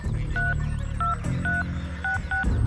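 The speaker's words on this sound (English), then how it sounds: "I grabbed the phone, satellite phones, and I'll dial." Touch tones from a satellite phone being dialed, a series of distinct beeps in irregular succession over a steady low hum, loud and close, with no voices.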